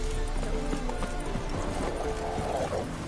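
Roach the horse gallops in a video game, a rapid steady clip-clop of hooves close by, mixed with game ambience and a snort or whinny, with voices speaking over it.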